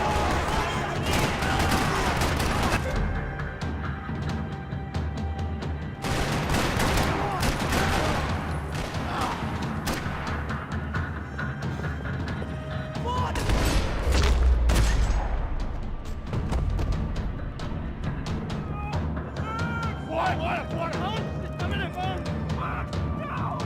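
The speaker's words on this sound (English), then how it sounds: "Another parking lot rattling with gunfire." Max Payne 3 gunfire rattles in repeated bursts and volleys across a parking lot, with crashes and booms mixed in over a busy, loud soundscape.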